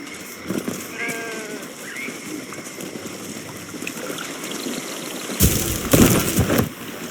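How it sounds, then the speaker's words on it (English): Sheep in Baldur's Gate 3 bleats with a warbling voice at a sunny marsh, a few wavering calls over trickling water ambience, then a louder burst near the end. "The sheep's voice warbles."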